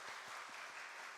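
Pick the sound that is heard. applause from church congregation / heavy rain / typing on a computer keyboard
applause from church congregation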